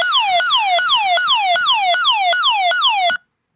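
An emergency radio beacon tone on the 121.5, 243 and 406 MHz distress frequencies: a loud, repeating downward-sweeping electronic whoop, about eight rapid cycles, alone and with no talk, then it cuts off abruptly.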